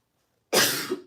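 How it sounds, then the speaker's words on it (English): A single harsh cough bursts out of silence, close and loud, with a short second push at its tail, from an adult who has been unwell with a cough. "not do the live because I have this cough"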